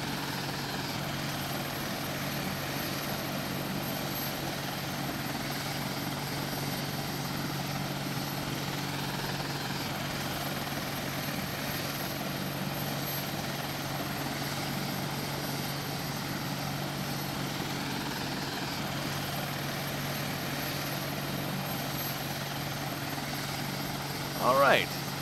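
A helicopter in Arma 2 drones in flight for a long stretch, its rotor and engine producing a continuous dense whir and thrum, steady and fairly loud throughout.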